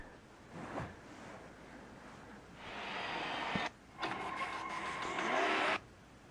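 Racing car engine from the Real Racing HD game on a new iPad, heard as a faint rising rev that swells louder, cuts off briefly, then returns as a sustained engine whine before stopping.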